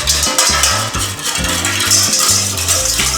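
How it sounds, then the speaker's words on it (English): A whisk works quickly through a Grey Poupon mustard dressing in a bowl, making loud, steady clinking and scraping against the sides. "Go ahead and get a whisk and whisk this up a little bit."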